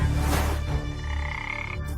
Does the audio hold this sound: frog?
yes